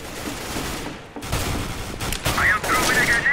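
Gunfire in a competitive shooter game, a series of sharp, loud shots in quick succession with a short pause before more close rapid fire, alongside some game effects.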